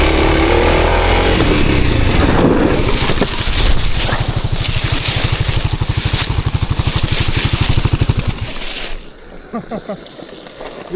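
A dirt bike engine drones loud and close, rising into a pulsing, throbbing putter as the rider pulls off slowly, then fades away behind wind noise and faint voices.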